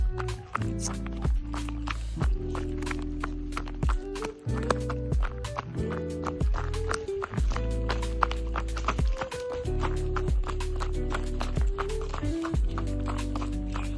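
Horse hooves clip-clop steadily in a quick, regular rhythm during a riding training session, close and clear with a few louder strikes, and no talking over them.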